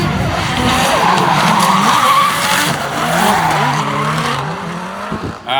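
A pro drift car's tires skid and squeal through a drift battle, loud and close, with the engine wailing and shifting pitch over a continuous screeching roar before a brief drop at the end.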